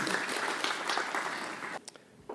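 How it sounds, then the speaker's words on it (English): A conference audience claps at an international cancer meeting, a dense, steady patter of many hands that holds for nearly two seconds, then thins out and stops, with a brief faint voice near the end. "Once again, let's give a round of applause to WaterAid."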